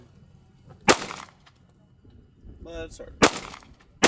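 Gunshots during firearms training ring out in sharp, loud isolated cracks, one early, then two in quick succession near the end, with a brief spoken remark between them.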